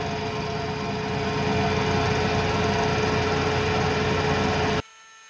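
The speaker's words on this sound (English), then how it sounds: "Now we'll reverse rotation of the head to push that burr into the part." A K&T Model 2D rotary head mill runs in reverse with a steady, dense mechanical hum and whir that continues evenly for nearly five seconds, then stops abruptly, leaving near silence.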